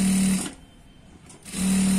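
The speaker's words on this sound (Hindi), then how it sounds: "इसको यहाँ पे सिलाई लगा देते हैं।" A sewing machine stitches the lining of a salwar (khajuri pant) in two loud, steady motor bursts separated by a short pause, close up with no talk.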